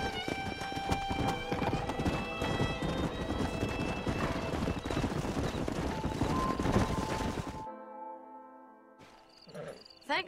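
Horses in the Red Dead Redemption video game clip-clop steadily at a farm, hoofbeats close and continuous for several seconds, then a brief whinny as the sound drops away.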